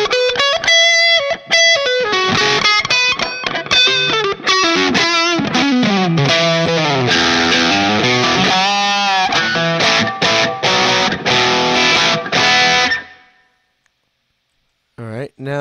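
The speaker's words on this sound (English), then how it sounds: "let's hear the tube drive. Hear how that sounds. The Chandler tube driver." An electric guitar through a Chandler Tube Driver overdrive model on a Line 6 POD HD500 plays a riff and chords with warm, crunchy distortion, loud and close, then cuts to silence near the end.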